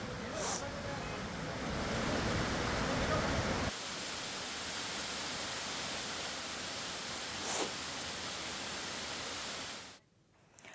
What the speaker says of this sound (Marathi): धबधब्याने रौद्र रूप धारण केलंय